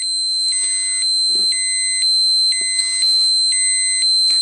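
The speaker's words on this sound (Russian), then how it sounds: "включилась звуковая сигнализация, поскольку превышен порог в 30 микроентген час." A Terra-P radiation dosimeter sounds its audible alarm after exceeding a 30 microroentgen-per-hour threshold: clear, loud electronic beeps in a steady repeating pattern, four regular bursts roughly every second, alone without talk.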